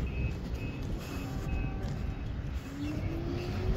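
Trucks back up inside a crowded fruit mandi, with evenly spaced reversing beeps sounding over a heavy, rumbling bed of engines and traffic noise.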